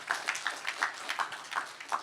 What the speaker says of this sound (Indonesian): Tepuk tangan yang hebat buat Tuhan Yesus.